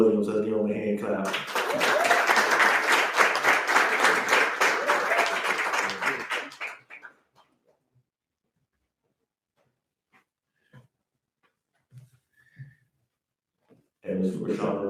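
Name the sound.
audience applause at a graduation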